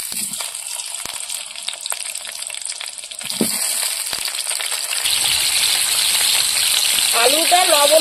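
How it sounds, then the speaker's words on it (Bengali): Potatoes frying with salt and turmeric for a home-style Sundarbans mutton kosha, a steady bright sizzle that swells louder after a few seconds, with occasional utensil scrapes and a brief voice near the end. "আলুটা লবণ হলুদ দিয়ে ভেজে নেব।"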